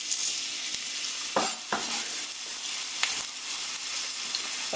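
Sliced onion fries in olive oil over medium-high heat with a steady, close sizzle, and a few brief scraping stirs of a utensil break through the frying noise.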